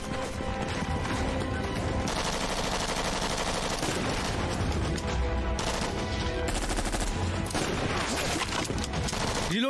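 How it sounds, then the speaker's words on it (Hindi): Sustained movie shootout gunfire from the Hindi-dubbed KGF-2, dense machine-gun bursts and volleys rattling continuously for the whole stretch, loud and close, with no voices breaking through. "गोलियां बरसाते रहो।"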